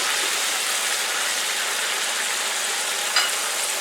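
Onions and chopped tomatoes fry together in a pan for a mixed vegetable pulao, giving a steady, even sizzle that holds close and constant throughout with no talking.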